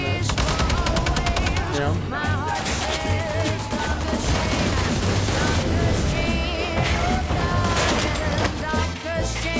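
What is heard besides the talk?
gunfire in Wolfenstein video game trailer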